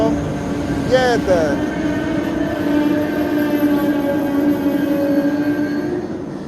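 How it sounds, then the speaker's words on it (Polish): Double-decker passenger train hauled by locomotive EU47-001 passing at a city-centre station, a steady rumbling roll with a brief squeal near the start, continuous and fairly loud throughout, with a voice talking over it. "kolejny skład, który jest pociągiem piętrowym, kolejny wagonowy skład z lokomotywą EU47001"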